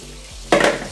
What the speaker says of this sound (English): So I like to rinse them with running water.